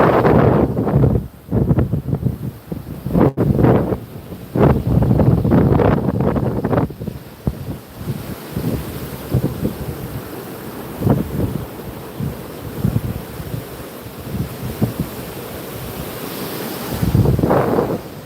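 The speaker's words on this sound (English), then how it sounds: "Today, the sea is just a little bit savage, but it's alright." Rough sea surf rolls in under strong wind, waves crashing in irregular loud bursts with heavy wind noise across the microphone.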